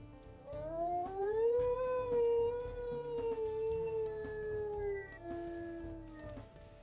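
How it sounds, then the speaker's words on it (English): A high-pitched wolf howl in the video game WolfQuest swells and wavers over several seconds, then tapers off in a lower, trailing note over soft background sound. "That's a pretty high-pitched howl than this one."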